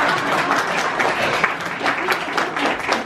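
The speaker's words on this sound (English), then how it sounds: "prolonged applause" An audience at a speech gives prolonged applause, a dense, steady wash of clapping from many hands throughout.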